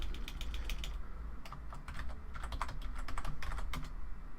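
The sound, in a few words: typing on a computer keyboard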